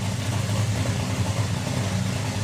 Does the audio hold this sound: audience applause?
no